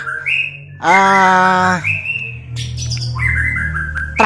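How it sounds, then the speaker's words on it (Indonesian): A young white-rumped shama (murai batu) sings a varied sequence of whistles, trills and chirps, with one long, loud harmonic phrase in the middle, heard close up over a low background hum. "Yang jelas ini masih muda ya, burungnya masih muda sekali ya."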